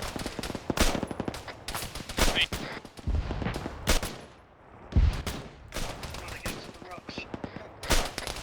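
Video game gunfire crackles in repeated sharp bursts and single shots, some near and some farther off, with brief lulls and bits of voice chatter mixed in.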